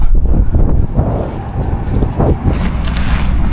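Strong wind buffeting the microphone over open water while out fishing, a loud, continuous, rough roar with gusts and no talking.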